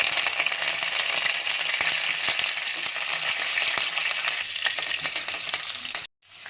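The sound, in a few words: curry leaves frying in hot oil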